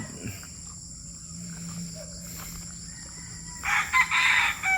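Breeder roosters in separate pens on a farm, with one crow rising clearly near the end over a quiet background of faint insect chirping.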